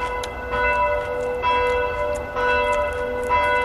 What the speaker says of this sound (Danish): Klokkerne ringer.